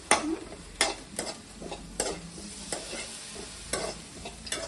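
Maggi noodles stirred and toasted in a hot pan: a steady low sizzle with repeated sharp scraping strokes of the spoon at uneven intervals, close and moderately loud, with no talking.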